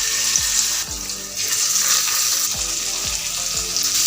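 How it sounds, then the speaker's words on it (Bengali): Rohu fish pieces rubbed with salt and turmeric frying in hot oil in a pan, a continuous close sizzle and crackle with several sharp spatula knocks and scrapes. "এখন আমি লবণ হলুদ দিয়ে মেখে রাখা মাছগুলো দিয়ে দিব।"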